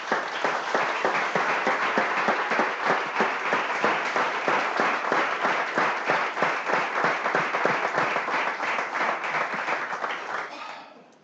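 A church congregation applauds in sustained, dense clapping that holds steady for about eleven seconds before quickly fading out, with no talk over it.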